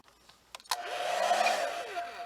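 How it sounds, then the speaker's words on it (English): A hair dryer on highest heat, powered by an inverter, switches on after a few clicks and runs with a loud, steady whooshing roar and a high whine, holding constant to the end. "got my hairdryer plugged into it"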